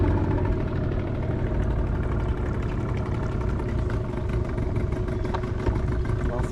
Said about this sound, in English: Nothing smells like a two-stroke Yamaha.